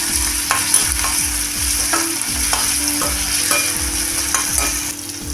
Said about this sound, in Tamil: ஒரு தக்காளியை பொடியாக கட் பண்ணி சேர்த்துக்கலாம். இதுவும் வதங்கட்டும்.